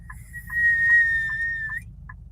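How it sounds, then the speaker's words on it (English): A person whistles while breathing in, producing a steady, shrill sustained tone with a faintly breathy edge, loud and close, lasting about a second and a half with brief chirps before and after. "I don't know if I want to call it like a breathe in whistle"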